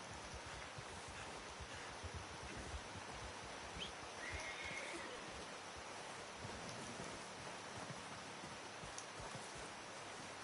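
A horse in the video game Red Dead Redemption 2 whinnies once over a steady wash of outdoor ambience, with faint hoof clops and rustling throughout.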